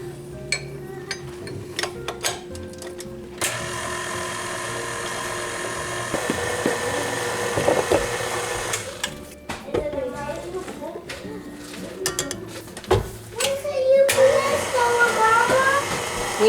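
An electric mixer creams butter and powdered sugar for old-fashioned Christmas candy, its motor settling into a steady whirring drone after a few seconds of scattered clatter, with the beaters grinding unevenly through the thick mixture.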